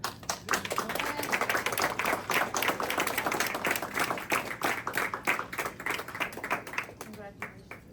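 An audience gives a round of applause for platinum-level volunteers at a volunteer appreciation program, many hands clapping densely and steadily for several seconds before thinning into scattered claps at the end.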